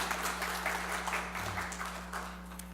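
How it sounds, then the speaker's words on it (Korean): A church congregation applauding during a service: soft, steady crowd clapping heard from a distance over a low electrical hum. "하나님께 영광의 박수 올리겠습니다."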